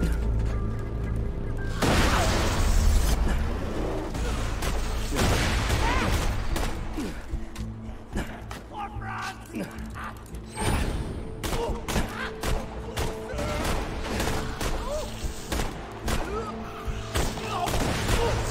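A deployed turret in Borderlands 2 fires rapid bursts of gunfire over loud game effects and music, with sustained automatic shooting that thins out toward the end.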